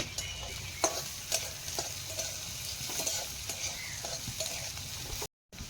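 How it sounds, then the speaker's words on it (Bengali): Onion frying with whole cumin seeds in a pan, stirred with a spatula: a constant soft sizzle marked by repeated light scraping clicks, close and moderately quiet, with a brief cut to silence near the end. "পেঁয়াজটা একটু ভাজা ভাজা মতো হলো।"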